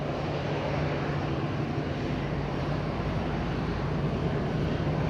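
Aircraft engine roar during a windy takeoff at Madeira Island Airport, a continuous broadband rumble heard from a distance under strong wind noise, steady throughout with no talk.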